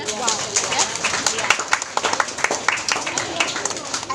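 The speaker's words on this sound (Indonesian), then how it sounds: "tepuk tangan" Children clap their hands in a classroom, irregular bursts of sharp claps that come and go over a lively, noisy room where voices chatter throughout.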